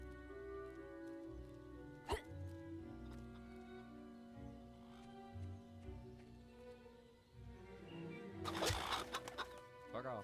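Chickens cluck repeatedly in the video game Fable Anniversary, against a steady layer of game music and ambience, with a sharp burst partway through and a louder flurry of squawking near the end.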